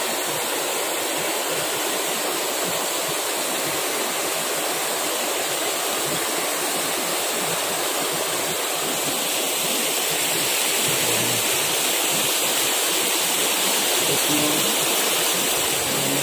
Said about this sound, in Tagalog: Yan guys, ang Kawa-Kawa Falls.